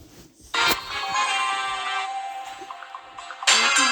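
A phone ringtone plays a steady electronic melody, with a sharp clatter before it starts and another burst of noise near the end.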